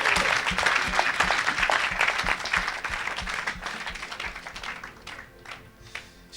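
A church congregation applauds, a dense, steady burst of many hands clapping that fills the space, gradually thinning and softening toward the end.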